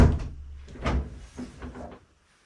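A hotel kitchenette fridge door being opened in a Dresden hotel room, a few soft knocks and rustling thumps close by over about two seconds, then silence.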